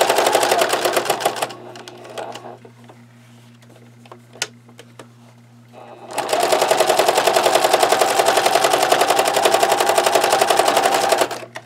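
A sewing machine stitches a denim notebook cover in two fast rattling bursts, a quieter pause with a few clicks between them, then a longer steady loud run close by.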